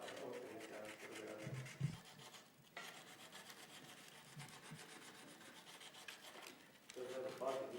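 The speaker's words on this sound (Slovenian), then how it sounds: "To je zdaj v fazi brušenja." Sanding antique wooden furniture during restoration gives a continuous scratchy rubbing and rasping texture, with a few brief heavier scrapes, steady and moderately close with no talking.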